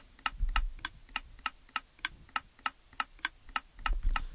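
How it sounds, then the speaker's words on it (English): Minecraft machine ejecting ender pearls into the void, making a steady train of crisp, evenly spaced clicks, roughly three per second, standing alone over a faint low rumble. "that clicking noise is it ejecting ender pearls into the void"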